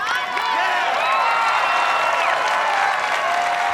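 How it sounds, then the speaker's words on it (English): A big crowd at an American Ninja Warrior finals course in Orlando cheers and applauds, a continuous loud wash of clapping with whoops and high shouts, near and steady throughout. "now the crowd really getting into it"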